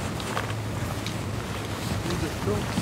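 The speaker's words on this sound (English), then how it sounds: "the wind whipping across from West Sands" Wind blows across a chilly seaside golf course at the Alfred Dunhill Links Championship, a steady rushing buffet on the microphone with a commentator's voice faintly under it.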